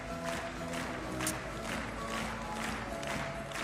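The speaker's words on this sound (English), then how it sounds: "please welcome with big applause the skaters of the second group" Steady, dense applause from an arena audience at the Helsinki Ice Hall greets pairs figure skaters at the Finlandia Trophy, a continuous wash of clapping under music, with no lull.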